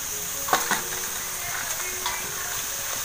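Chopped wild kurdu greens drop into a hot pan of fried onion and garlic, giving a faint steady sizzle with a few soft clattering knocks as they land and are stirred.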